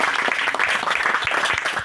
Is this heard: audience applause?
yes